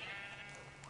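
A sheep bleats in a video game, a single nasal, wavering cry at fairly low level, heard alone with no talking.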